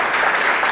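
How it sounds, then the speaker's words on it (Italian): Audience applause on an Italian comedy show, a dense wash of clapping that stays loud and steady from start to finish of a brief burst. "Brava, un applauso, brava, amici!"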